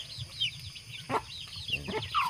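Backyard chickens cluck in short, scattered bursts at moderate distance, with a low background murmur throughout.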